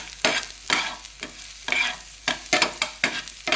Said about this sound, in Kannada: ಬೆಂಡೆಕಾಯಿಯನ್ನು ತುಂಡು ಮಾಡಿ ಅದನ್ನು 3 ಚಮಚ ತೆಂಗಿನೆಣ್ಣೆಯಲ್ಲಿ ಹುರಿದುಕೊಳ್ಳಿ ಫ್ರೆಂಡ್ಸ್